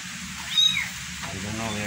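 A mother cat gives a short meow, with a second softer cry after it, close by over a quiet outdoor background during rain.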